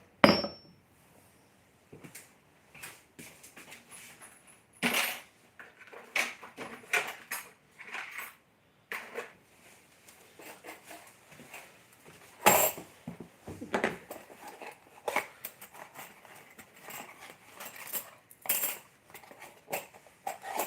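Metal stamping on a small anvil, a logo stamp hammered into a key in a workshop: scattered sharp metallic strikes and clinks of varying loudness, with a couple of harder blows standing out among lighter taps.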